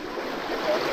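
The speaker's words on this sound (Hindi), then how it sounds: "पानी का फ्लो इतना ज़्यादा है इधर" A strong flow of water pours at a waterfall, a steady, close rushing wash that grows slightly louder toward the end.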